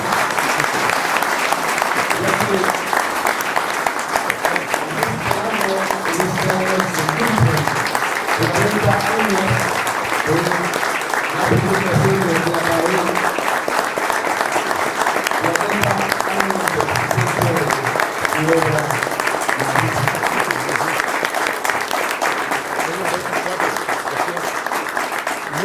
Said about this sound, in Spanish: solicitaría a todos los presentes ofrecer un fuerte aplauso al maestro Antonio Velasco.